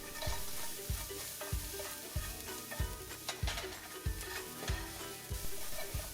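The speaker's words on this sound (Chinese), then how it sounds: "再把刚刚剪好的辣椒和四川花椒放进锅里翻炒一下" Chili and Sichuan peppercorns are stir-fried in oil in a wok over medium heat, with a steady sizzle broken by rhythmic scraping strokes of the spatula about twice a second, close and without speech.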